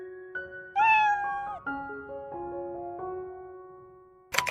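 A stray cat by a schoolyard meows in a series of clear, tonal cries, loud and close, with a brief sharp sound at the end.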